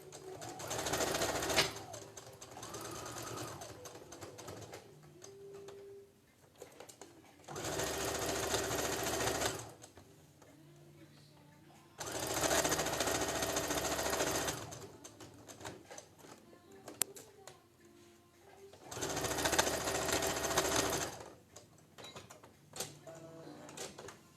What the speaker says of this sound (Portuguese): Agora, eu vou à máquina e costurar uma margem de costura também.